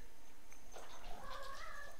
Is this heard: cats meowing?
yes